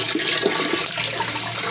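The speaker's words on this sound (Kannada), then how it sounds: "ಎಲ್ಲ ಕಡೆ ಸೋರ್ತು ಪೈಪ್." Water gushes and sprays from a leaking farm irrigation pipe, a steady loud rushing splash that carries on without a break and with no voices.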